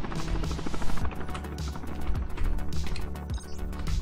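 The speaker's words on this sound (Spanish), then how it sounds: "Hay un helicóptero." Helicopter rotor chop from Call of Duty Mobile, a throbbing rhythmic beat mixed with bursts of gunfire and other game action, loud and busy throughout.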